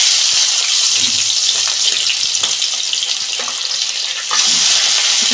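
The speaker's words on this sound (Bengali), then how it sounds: "এই যে মাছগুলো ভেজে নিচ্ছি।" Pabda fish frying in oil in a pan, two at a time, giving a loud, steady, close sizzle with small pops and stirring scrapes, swelling sharply near the end, no talk.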